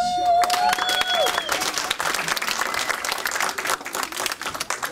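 A crowd at a concert applauds loudly and continuously, dense clapping filling the space, with a couple of brief whistles at the start.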